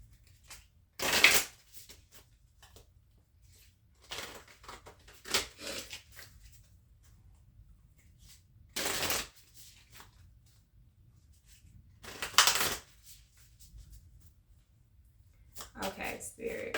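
Starseed Oracle cards shuffled in short crisp riffling bursts, about five separate rounds spaced by quiet pauses, close and fairly soft.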